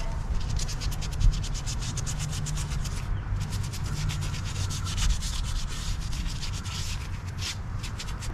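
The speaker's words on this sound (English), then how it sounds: "I'm still gonna take some brake clean and just clean it up" A rag rubbing brake cleaner over a car's wheel hub seating surface, a steady close scrubbing and wiping sound that continues unbroken with no talking.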